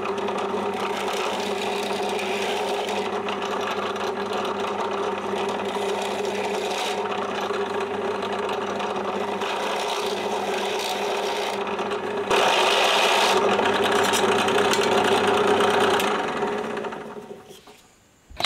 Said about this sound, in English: Just to deburr these holes